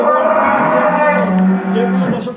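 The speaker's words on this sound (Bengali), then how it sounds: "গরুটা" A cow moos loudly and close up on a cattle farm, one long sustained low lowing call lasting about two seconds, with no talk over it.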